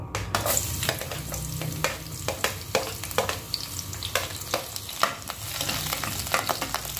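Garlic frying in hot oil in a cooking pan, a steady hiss and crackle with frequent utensil scrapes and taps across the whole stretch, near and fairly loud, no one speaking.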